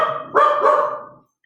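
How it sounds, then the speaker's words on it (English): A pet dog at home lets out two quick barks close to the microphone, the second trailing off before silence. "That's my dog."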